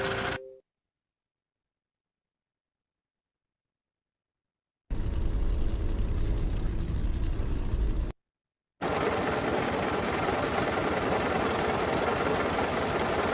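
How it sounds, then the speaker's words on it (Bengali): A car engine sound effect plays in two stretches after a long silence, a loud, steady low rumble idling with a slight knocking vibration, briefly cut off before resuming. "কার ইঞ্জিন দিয়ে দিই, কার ইঞ্জিনের সাউন্ড।"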